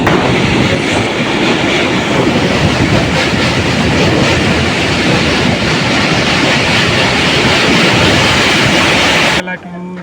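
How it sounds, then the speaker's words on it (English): A narrow-gauge train near Dudhwa National Park rushes past fast and loudly with rattling, clattering wheels, a dense continuous roar that cuts off abruptly near the end. "train is coming very fast"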